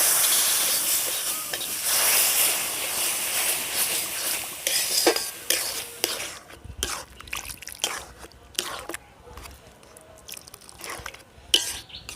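Milk poured a little at a time into semolina cooking in a pan, a loud steamy hiss at first that fades into quieter bubbling and scattered scraping stir sounds close by.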